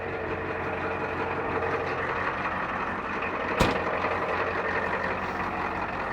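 An old International truck with an IDI engine runs at a steady, close, rumbling idle, with one sharp click partway through.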